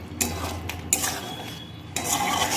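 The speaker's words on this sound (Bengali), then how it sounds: "ঘিটা আমি নেড়ে নেব।" A spoon scrapes and clinks against a cooking pan in short bursts while ghee is stirred, close by, with quiet pauses between the strokes and no voices.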